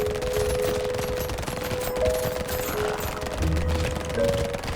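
Gunfire from the video game Brotato, a steady barrage of rapid overlapping shots mixed with game music and sound effects, loud and continuous through the whole stretch.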